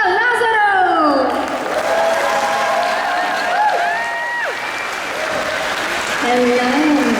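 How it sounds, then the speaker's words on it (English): Applause rises from the audience at a comic convention Q&A panel, steady clapping under an amplified voice, with the crowd sound continuing as talk carries on over the PA. "Round of applause"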